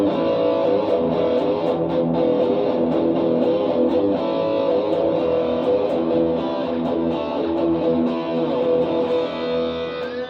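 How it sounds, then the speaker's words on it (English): An electric guitar through Rockman distortion with the chorus switched off plays a thick, saturated, continuously sustained line at steady loudness with no pauses. "Distortion without the Rockman chorus."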